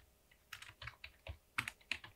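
Typing on a computer keyboard, a quick close run of soft, irregular key clicks over about two seconds.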